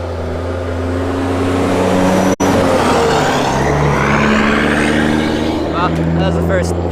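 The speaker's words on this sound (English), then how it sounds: "that was the first truck" A truck drives past on a Tennessee road, a loud, steady engine roar with broad rumble that rises and fades as the vehicle passes close by. A voice can be heard talking in the background.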